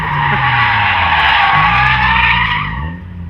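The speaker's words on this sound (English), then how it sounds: "here he comes around the bend at 8 miles an hour, and he spins out" An M3 at a Detroit drift event skids and spins out with a loud, sustained tire squeal over a steady engine drone, close and continuous before easing off at the end.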